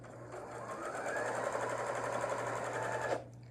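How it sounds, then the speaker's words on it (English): A Janome sewing machine runs a top stitch to close the opening of a tote bag lining, a steady close whir for about three seconds that stops abruptly. "I'm just gonna do a top stitch to close up that opening"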